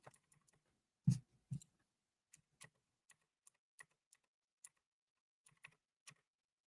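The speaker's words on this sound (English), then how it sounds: "Yep, you can hear my keyboard." Sparse keystrokes on a computer keyboard, close and quiet, with a couple of heavier thumps early on and then scattered single taps at an uneven, unhurried pace.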